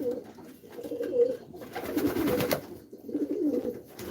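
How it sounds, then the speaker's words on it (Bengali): Racing pigeons kept in a home loft coo in repeated low throaty bursts, several birds close by with brief pauses between rounds, no talk. "রেসার কবুতর মানে এগুলো খুব শক্তিশালী কবুতর"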